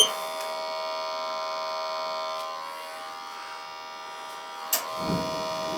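A gas boiler hums with a steady electrical buzz, then a sharp click is followed by a low rumbling whoosh as the burner fires up near the end.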